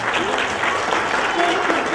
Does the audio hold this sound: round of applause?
yes